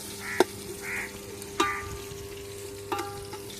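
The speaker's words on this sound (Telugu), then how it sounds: "ఒక పెద్ద బాండ్లీ పెట్టి దాంట్లోకి ఎర్రగడ్డలు, నూనె, పచ్చిమిరకాయలు వేసి బాగా ఎర్రగా వచ్చేటట్టు కాల్చుకోవాలా" Onions, oil and green chillies fry in a large pan for a dhaba-style chicken curry, giving a steady close sizzle broken by three sharp clinks of a utensil against the pan.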